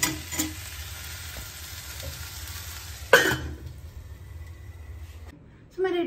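Okra (bhindi) sizzling and frying in a pan, a steady close crackle with occasional stirring clatter; brief voices and clinks break in near the end.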